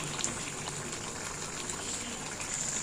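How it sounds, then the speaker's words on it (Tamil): Potato masala curry made with chana dal simmers in a pan, a steady close bubbling and fizzing with soft pops throughout and no voices. "நல்லா கொதிச்சு அந்த மசாலா ஸ்மெல் போயிடுச்சு"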